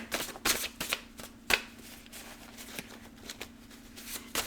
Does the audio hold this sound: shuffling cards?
yes